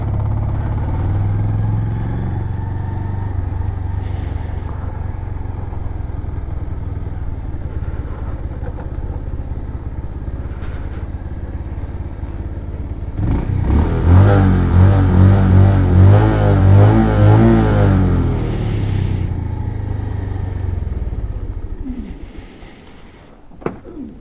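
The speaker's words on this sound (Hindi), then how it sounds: "बाइक मुश्किल से चढ़ाई, बहुत ज़्यादा फर्स्ट गियर में लेके आए हूँ" A motorcycle labours up a steep hill toward a temple at height in first gear, a steady engine drone that swells into a louder, strained revving burst midway before easing off near the end.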